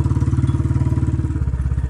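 Motorcycle engine chugging along at a steady rhythmic pulse, close and fairly loud, with a slight shift in tone near the end; no talking.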